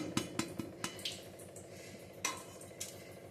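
Spoon stirring salt, chili powder and sambar powder into a greens curry (soppina saaru) in a pot, with several light clinks and scrapes of metal on the vessel, close and fairly quiet, with no talking.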